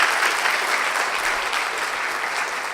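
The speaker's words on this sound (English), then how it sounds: "Can we give him a big clap," Applause from a large audience at the 2019 Falak UTS opening speech event, steady, dense clapping heard alone and close throughout.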